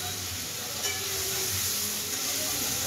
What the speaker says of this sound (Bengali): একটু জল দেবো, নাহলে মশলাটা পুড়ে যাবে